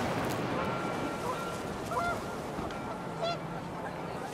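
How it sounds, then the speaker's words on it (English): Panicked geese honking in the video game What Remains of Edith Finch, a few scattered distant calls over a steady windy background, faint and brief rather than a dense flock chorus. "The wind picked up, and panicked geese appeared and quickly went."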